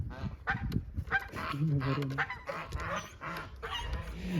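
Several geese, grey and white, honk in loud, overlapping bursts close by on a farm, their calls repeating irregularly with a bit of rustling between.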